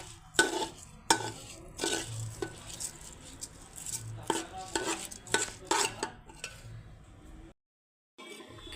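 Khichuri being stir-fried in a pot gives irregular close scrapes and knocks of a spoon against metal over a soft sizzle. The bursts come in uneven clusters, then a brief silent gap near the end.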